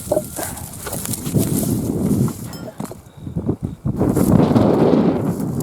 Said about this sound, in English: That wind is just cranking today